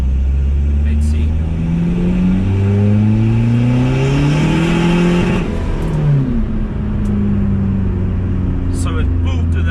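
Car engine pulls hard through the revs up to the rev limiter, the pitch climbing steadily with a brief dip midway, loud and close from inside the cabin.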